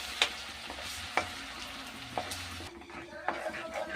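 Ginger garlic paste deep frying in a pan, a steady crackling sizzle with a few sharp scrapes and clinks from stirring spaced through it.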